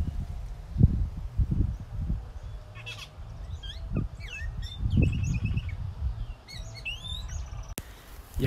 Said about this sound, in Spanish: Miren, escuchen ese pajarito.